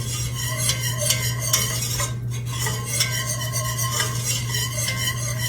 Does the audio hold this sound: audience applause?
no